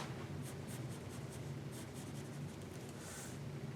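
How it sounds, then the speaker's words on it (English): Pencil strokes on paper while drawing lips: soft, close, continuous scratchy scribbling in short repeated strokes, quiet and alone. "we'll just draw the upper lip and the lower lip like this."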